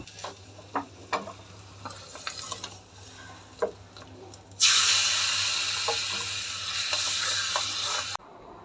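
Mustard seeds hit hot oil for a Kerala buttermilk curry. After a few quiet kitchen clicks, a loud sudden sizzle bursts up close, hisses steadily for several seconds, then cuts off abruptly.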